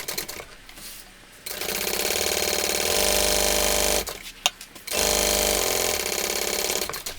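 A sewing machine basting the top open edge of a tote's slip pocket, running in two long, loud, close bursts of rapid stitching separated by a short pause, with no voices.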